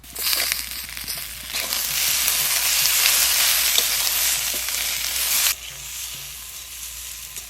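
Tomato drops into a pan of frying spices and green chilies for a Bengali bitter gourd dish, and the pan sizzles and crackles loudly and steadily. The sizzle then quiets abruptly, leaving a softer frying sound underneath.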